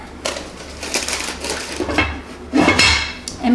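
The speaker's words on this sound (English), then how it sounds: "put the lid on" A heavy lid goes onto a Dutch oven holding rustic bread dough. Several clanks and metallic knocks come in quick succession, with the loudest contact near the end.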